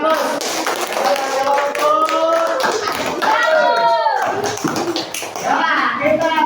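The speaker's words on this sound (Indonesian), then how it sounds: "Oke, kita berikan aplaus." A classroom group of children applauding, a steady patter of clapping hands and tapping close by, running throughout with children's voices chattering over it.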